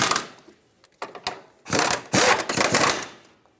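Bolts being tightened on the rear shock absorber mounts of a 2013-2018 Hyundai Santa Fe, a run of close mechanical ratcheting and whirring bursts separated by short pauses, no talk.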